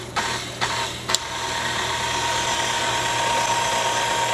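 A KitchenAid stand mixer runs with a steady motor whine and hum, preceded by a few sharp clicks or knocks, close and fairly loud, no talking.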